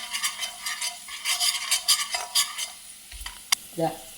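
Whole spices and garlic fry in hot oil for a Kerala stew served with appam, a rough crackling sizzle broken by rhythmic bursts of spatula stirring and a sharp clack near the end.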